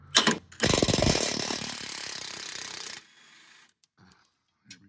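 An impact wrench hammers on the upper track bar bolt of a vehicle suspension, a short burst followed by a longer rattling whir for about two seconds, close and loud, then stopping into quiet clinks.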